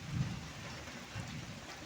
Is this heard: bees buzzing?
no